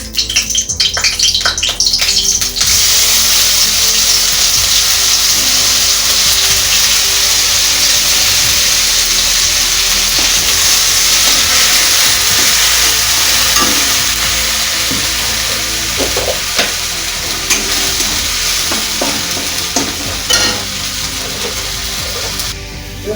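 Onion, ginger, garlic, tomato and chili paste fry in hot mustard oil, a loud, steady sizzle and crackle that runs unbroken throughout, close to the pan.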